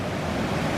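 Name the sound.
fast-flowing water of the Finnis River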